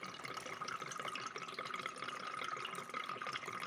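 Dirty water drains out of a radiator being cleaned, a faint continuous trickle and splash with small drips throughout.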